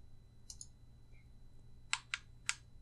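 Computer mouse clicks while setting up controller buttons for a GameCube/Wii emulator, a few faint early clicks followed by three sharp, close clicks in quick succession over a quiet room hum.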